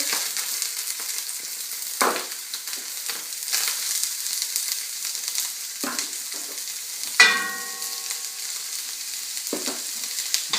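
Vegetables dropped into hot olive oil in a pan for braised short ribs, giving a steady close sizzle with stirring clatter and a few sharp utensil knocks, plus one brief ringing metallic clink partway through.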